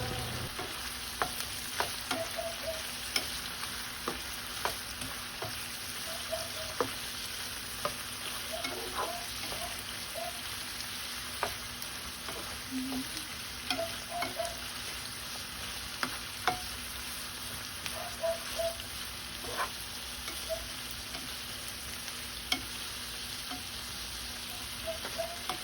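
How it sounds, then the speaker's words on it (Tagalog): Shrimp sizzles steadily as it is stir-fried with soy sauce in a pan, a constant close hiss broken by scattered clicks and scrapes of stirring throughout. "At ipagpatuloy natin ang paggisa ng hipon hanggang sa magbago ang kulay."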